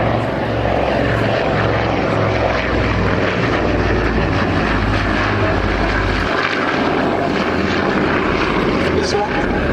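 Vintage propeller aircraft engines drone loudly and steadily at an airshow, a deep continuous roar that holds throughout under a voice of commentary.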